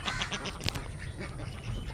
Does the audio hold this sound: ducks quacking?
yes